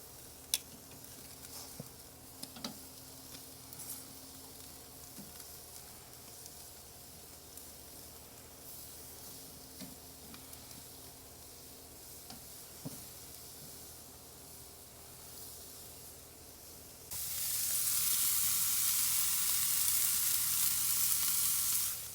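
Faint crackling and quiet ticks at first, then a sudden loud, steady sizzling hiss rises and continues to the end as food sears on a barbecue grill by a lake.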